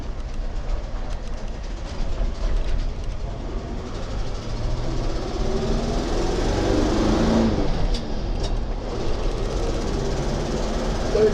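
A 1972 International Harvester Travelette 1210 crew cab 4x4 truck engine runs loud and steady, its drone rising and shifting through the gears with a brief dip mid-run, heard up close with no talk.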